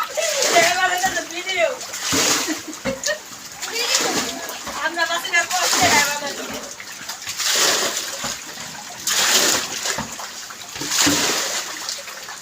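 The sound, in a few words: floodwater splashing into a house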